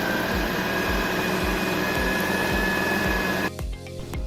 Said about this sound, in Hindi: और अब इस कीमे को हम अच्छे से ग्राइंड कर लेंगे, ताकि सारी जो चीज़ें हैं वो मिक्स हो जाएं।